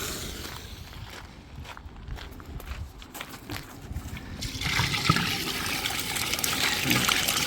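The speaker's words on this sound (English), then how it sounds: "Okay, next up is the dirty water dump." Dirty water is dumped from a carpet cleaning extractor. Faint trickling and handling noises come first, then a louder steady pour of water splashes away.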